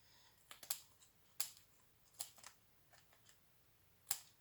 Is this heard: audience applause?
no